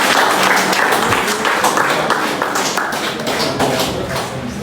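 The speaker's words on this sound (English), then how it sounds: "Give him a round of applause." Audience applause, dense and steady, loud at first and gradually tapering slightly, with no speech over it.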